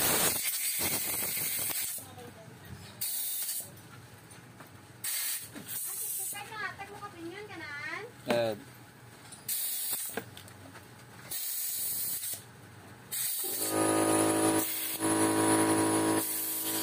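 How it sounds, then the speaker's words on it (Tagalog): Compressed air hisses through a flooded, overflowing carburetor to clean it, in loud bursts of several seconds separated by quiet gaps, with a brief rattling whine midway and faint talk. "Lagyan muna natin ng ere para malinis."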